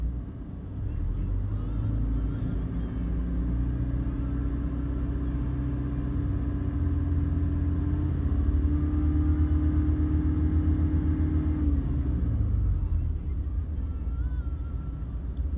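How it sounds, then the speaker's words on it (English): A Toyota 1GD diesel engine with DPF and EGR is revved up and held at raised revs, a steady loud rumbling drone that eases back down near the end. "Let's just rev it up a little bit and see."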